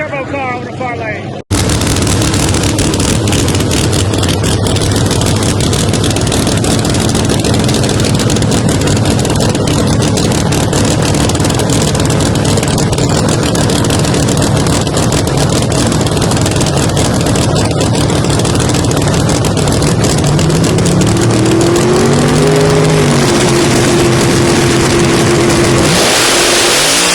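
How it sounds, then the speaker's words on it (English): A Pro Mod turbo drag racing car's engine roars loud and steady at Bradenton Motorsports Park, sustained near-continuous power with a pitch rising toward the end, under commentary. "Ed Thornton in a turbo car on the far lane."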